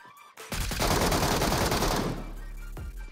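Suppressed gunfire in PUBG Mobile's Metro Royale mode, a loud dense burst of rapid shots that fills about a second and a half, then eases into a lower rumble and fades out.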